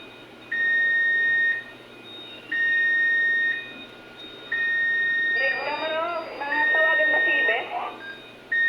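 An FDAS general fire alarm in a building's BMS system beeps in long steady tones about once every two seconds, loud and regular, while voices briefly talk over it partway through.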